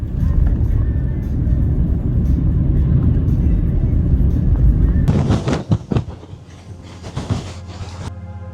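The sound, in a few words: car driving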